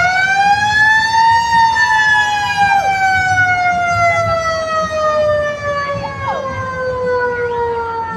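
A fire truck engine siren mounted on a lowrider wails loud and close in a steady, slowly falling tone with strong harmonics over street rumble.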